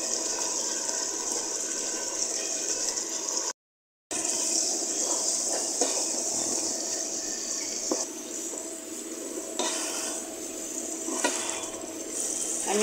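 Chicken rezala with ginger and garlic paste sizzles and hisses steadily in a pan while being sautéed, a continuous close frying noise with light stirring scrapes, briefly cut to silence partway through.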